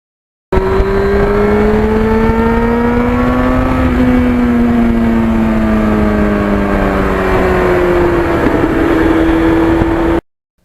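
A 1991 Yamaha FZR 1000cc motorcycle engine revs steadily, its pitch climbing and settling as it runs through the gears, loud and continuous for about ten seconds with no voices.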